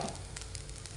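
Ground fenugreek sizzling in hot coconut oil in a pan, a steady close crackling hiss that holds for about a second with no talk.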